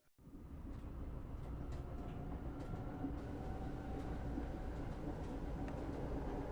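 A New York City subway train rolls along with a continuous low rumble and rattling, the wheels and carriages producing a sustained, even roar with faint clicks over it and no talking.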